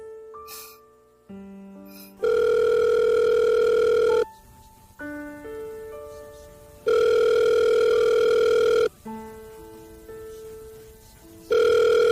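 A telephone on a call keeps ringing unanswered, sounding long steady electronic tones that alternate with shorter two-note ring patterns, loud and clear with no one talking over it.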